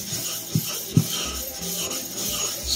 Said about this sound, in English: This is a very, very hard 400 grit, and it benefits from being slurried up just a hair.